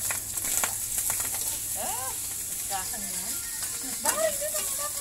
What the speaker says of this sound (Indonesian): Teh Nonyi lagi bikin telur goreng